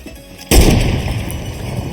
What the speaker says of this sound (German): Wer sniped da? Diego hat geknallt.